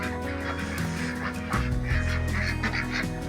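Ducks out in the snow honk and quack in a busy, overlapping chorus, close and fairly loud, with no talking.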